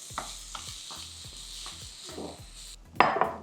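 Coriander being stirred into a corn tikki mixture in a bowl: a series of soft, regular scraping and stirring strokes up close, ending in a brief louder clatter of utensil against the bowl, with no talking.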